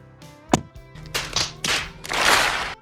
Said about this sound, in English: So this is our first ever door thunk test.